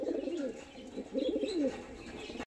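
Caged pigeons of show breeds such as Andhra, kalanka and Madras types, with two bursts of soft, warbling cooing and some restless movement, fairly close and with no talk.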